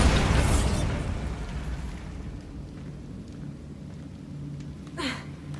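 A Bombarda spell blast in Hogwarts Legacy: a loud booming explosion at the start that rumbles and fades into a low roar, followed by a sharp swooshing burst near the end, with no talking.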